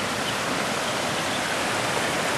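Waterfall in Yabakei, Japan, with water running higher than usual: a dense, steady broadband rush, continuous and close, with no voices.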